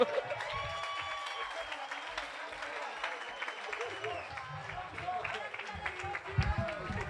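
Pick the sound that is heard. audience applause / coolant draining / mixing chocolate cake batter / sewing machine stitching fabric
audience applause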